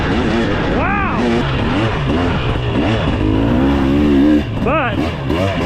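A 2023 Husqvarna TX300 two-stroke dirt bike revs hard in sharp rising and falling bursts, loud and close, with excited voices shouting over the engine.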